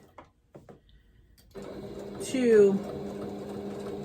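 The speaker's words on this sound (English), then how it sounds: "when you're stitching your applique on, and if you have like the shapes, just go nice and slow" A sewing machine sews applique onto a quilted fabric Easter basket, starting after a quiet opening and then running as a steady, close whirring hum while a person talks over it.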